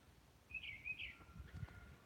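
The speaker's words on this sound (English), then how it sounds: "Do you hear the birds?" Birds chirp outdoors in a quiet natural setting, a faint short warbling call with a few soft chirps after it over a low background rumble.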